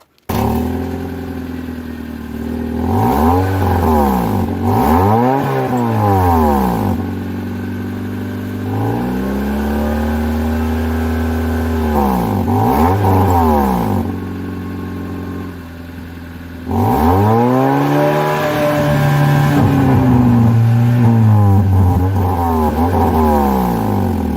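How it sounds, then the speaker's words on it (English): A Honda Civic engine with its stock exhaust revs repeatedly, climbing and falling in pitch through several loud, drawn-out throttle blips, close and without talk. "So this is with a stock system with a wholly exhaust."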